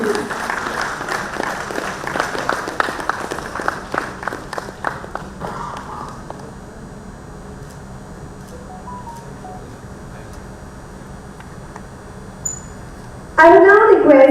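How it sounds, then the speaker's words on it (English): Seminar attendees at a mining engineers' association event clap for the dignitaries, a brief round of scattered, distinct claps that dies away into a quiet room, followed by a sudden louder sound at the end. "Huge round of applause for both the honorable dignitaries."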